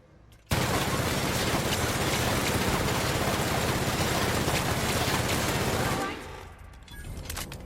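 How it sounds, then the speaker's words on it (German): Sustained automatic gunfire poured into a robot in The Outer Worlds, a dense unbroken roar of rapid shots for several seconds that cuts off abruptly, leaving quieter game ambience. "90 Schuss einfach mal auf den kompletten Roboter drauf gezimmert"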